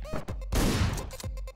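A single loud, sharp gunshot burst from the video game Hotline Miami, a short crack with a brief noisy tail, surrounded by clicks and faint game sounds.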